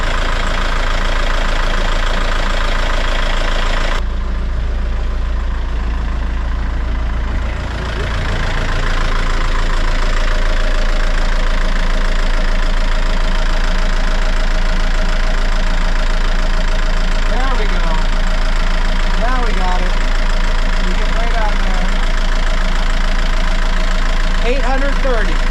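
Motor-sailer engine idling steadily around 829 RPM, a loud, continuous low rumble heard up close in the engine compartment, with someone talking over it.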